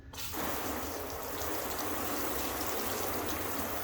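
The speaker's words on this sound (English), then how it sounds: "we're just gonna test the water behavior, see how it handles various types of water hitting it" Steady broadband hiss of water spraying onto a ceramic-coated car panel, continuous and fairly close, starting abruptly after a brief quiet moment.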